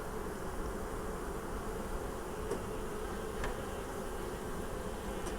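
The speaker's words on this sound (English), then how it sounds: "A lot of bees in there now." Dense, steady buzzing of a mass of hungry honeybees inside an open beehive with frames, a continuous close drone with no pauses, in a subarctic beekeeping setting.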